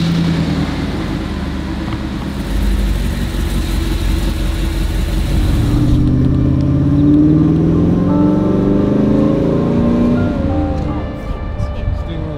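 A Mercedes 126 with a Zender wide body kit and M117 V8 drives through Boca Raton streets, its engine note a steady mid-pitched drone that swells as the car accelerates, heard up close with road and wind rush around it.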